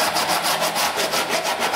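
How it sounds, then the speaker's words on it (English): Sandpaper is drawn back and forth across wood to sand it flat, producing a close, loud, rhythmic rasping with about eight even strokes in quick succession and no voices. "And with some sandpaper, I'm just going to sand that flat"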